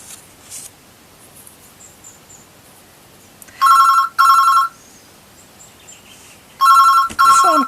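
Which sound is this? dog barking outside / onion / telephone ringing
telephone ringing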